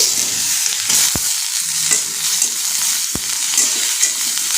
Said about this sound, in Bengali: আলু ভাজি হয়ে গেছে এখন দিয়ে দেবো বেগুন